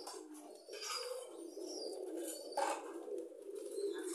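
Pigeons coo in a loft after their winter feeding, low soft calls repeating over a steady background hiss with a few brief chirps.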